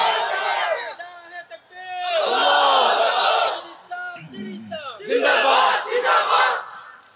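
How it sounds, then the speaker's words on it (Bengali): A rally crowd chanting takbir (Allahu Akbar) in loud, swelling waves of massed voices, with brief dips between calls. "2-4 মিনিট তাকবীর দাও না"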